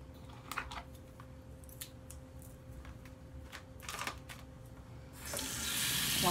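A tap runs into a sink for hand washing, first with scattered faint splashes and clicks over a low steady hum, then the water opens up into a loud, steady close rush for the last second or so.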